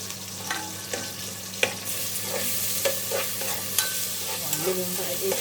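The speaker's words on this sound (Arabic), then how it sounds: "هقلبهم بقى ايه شويه كده في السمنه لحد ما لونهم يتغير وريحتهم تطلع." Ingredients being stirred as they fry in ghee with a little oil, a steady close sizzle broken by occasional sharp scrapes and clinks of the spoon against the pot.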